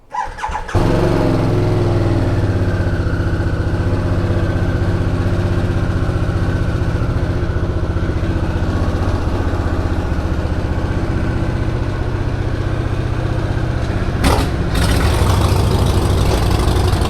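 Harley-Davidson Sportster S motorcycle engine rumbling loud and steady after a brief start, carried along while riding, a deep continuous drone that holds for the whole stretch.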